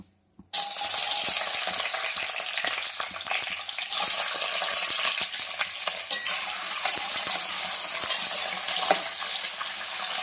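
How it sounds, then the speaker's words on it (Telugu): Chopped ivy gourds frying in hot oil, a sudden loud sizzle that starts after a brief silence and keeps crackling densely with small pops and clinks of stirring throughout. "దొండకాయలు ఆయిల్లో ఫ్రై చేద్దాము"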